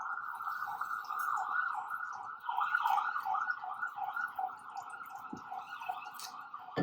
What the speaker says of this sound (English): I think that's police or ambulance.